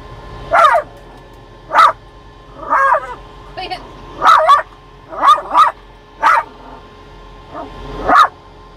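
A small dog barks in short, sharp bursts, about eight yips and barks spaced irregularly and close by, with faint whimpering between them.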